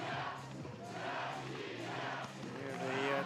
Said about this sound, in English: Chance from the home crowd, who are thoroughly enjoying themselves on this Sunday night.